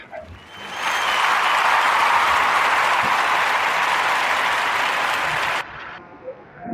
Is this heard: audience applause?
yes